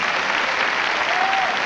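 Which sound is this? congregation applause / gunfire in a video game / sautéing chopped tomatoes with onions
congregation applause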